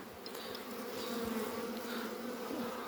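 Honeybees buzzing steadily at an opened beehive during a colony inspection, a close, continuous drone of many wings with individual bees passing near.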